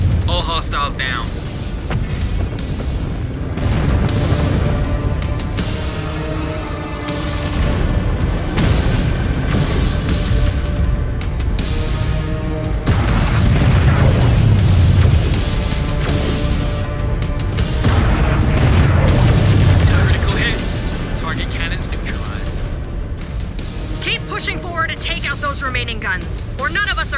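Mech reactor blowing up in MechWarrior 5 Clans during heavy combat, with deep booms, weapon fire and explosions swelling twice to loud peaks amid a continuous battle din, while radio voices talk over it.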